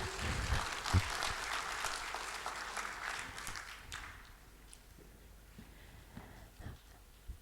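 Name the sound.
audience applause at conference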